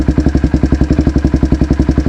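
A used exhaust throbs on a Polaris Predator 500 ATV engine as it idles with a steady, fast, even pulse, loud and close, with no talk over it.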